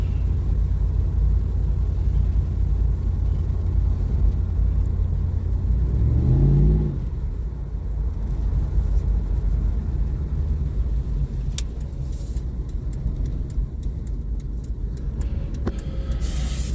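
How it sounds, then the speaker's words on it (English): A car with a newly replaced Optispark distributor rumbles loudly and steadily, then the engine revs briefly and settles into a slightly quieter, continuous rumble on wet roads. "I forgot how good this car sounded."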